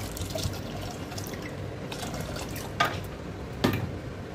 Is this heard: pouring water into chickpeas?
yes